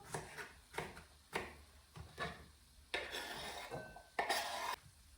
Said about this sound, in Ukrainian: тим часом я буду нарізати салат